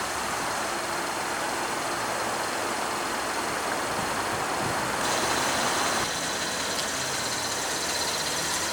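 A 2016 GMC Canyon with its 3.6 L V6 idles in a steady, broadband drone that stays constant throughout, with no voices.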